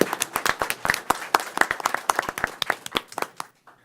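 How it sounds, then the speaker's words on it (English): A small group claps at a board meeting, individual hand claps distinct and uneven in rhythm, moderately close, before stopping abruptly into quiet. "Let's give one more round of applause."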